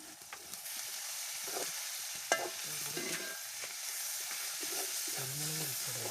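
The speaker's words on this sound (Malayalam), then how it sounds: "എന്നിട്ട് നന്നായിട്ടൊന്ന് ഇളക്കി കൊടുക്കുക." Beef curry with salt and coconut pieces being stirred in a hot pan, with steady sizzling and frying hiss under repeated scraping spoon strokes and a sharp clank partway through.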